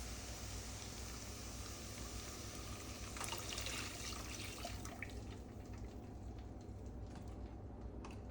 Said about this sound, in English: So I'm going to go ahead and add my 2 cups of vegetable broth.